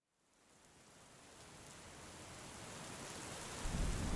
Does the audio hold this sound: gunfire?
no